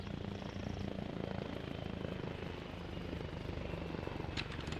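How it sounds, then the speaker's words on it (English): A helicopter flies in ARMA Reforger, its rotor producing a dense, steady low thudding drone that holds at constant strength throughout, faint overall, with a few brief clicks near the end. "Another heli drop northwest of Georgia."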